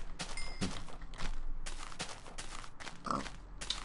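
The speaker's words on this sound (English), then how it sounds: "Hey, pig." A Minecraft pig gives a few short grunts and oinks among the blocky game sounds, with scattered footstep-like thuds and clicks, all fairly quiet.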